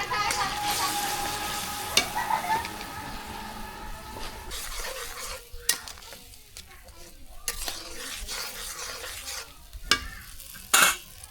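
Spiced tilapia curry is stir-fried in a village kitchen pan, with continuous sizzling and repeated scraping and stirring clatters, some sharp utensil knocks, and no talk.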